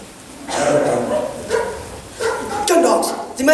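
Gun dogs barking as a stage effect in a musical theatre production, several bursts of barking in quick succession, loud and close.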